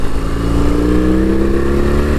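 A BMW R18 First Edition motorcycle's big boxer engine rumbles loudly and steadily while riding at low speed, a close, continuous deep throb with a slight rise in pitch toward the end.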